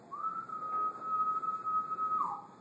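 A man whistles an imitation of a male periodical cicada's calling song: one sustained, steady pure tone lasting about two seconds that ends with a quick downward slur, heard alone and clearly.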